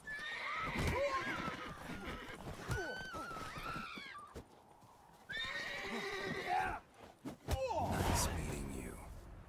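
A horse in The Witcher 3 gives repeated loud whinnies and neighs over clip-clopping hooves, with game sounds and a voice intermittently underneath.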